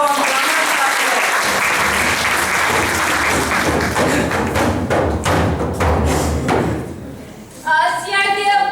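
An audience at a theatre performance about recruitment of women into police and judiciary claps in a loud, dense burst of applause that fades near the end, followed by a brief tonal sound.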